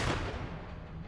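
Gunfire in the crime-strategy video game Empire of Sins, a dense, loud burst of shots at the start that rolls into a continuous rumbling barrage for about a second, with no talking.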